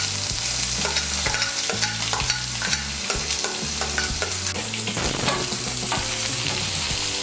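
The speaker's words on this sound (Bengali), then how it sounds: "পেঁয়াজ কুচিটাকে হালকা করে একটু ভেজে নেব।" Chopped medium onion frying lightly in a pan for dhaba-style chicken bharta, a steady sizzle with repeated stirring scrapes, close and loud, over a low rhythmic background hum.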